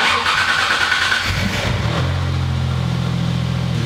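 A car being prepared for drifting starts up on a cold winter day, its engine catching after a cranking burst and settling into a steady, loud idle hum close by.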